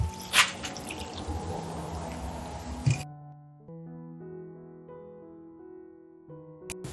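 Thin coconut milk from half a coconut is poured into a beetroot curry, giving about three seconds of close, steady liquid pouring and splashing before it stops and soft music carries on.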